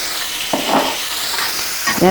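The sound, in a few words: prawns frying with onion in a pan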